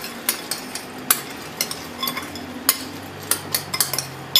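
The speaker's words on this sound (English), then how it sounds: "And small spoon just to stir those up." A small spoon stirring salt into food in a bowl makes a series of light, irregular clinks and taps against the dish, close and distinct over quiet background.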